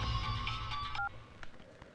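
A telephone being dialed in a tense Telugu film scene: a short run of bright keypad tones in the first second, then a quiet, muffled background with no voices.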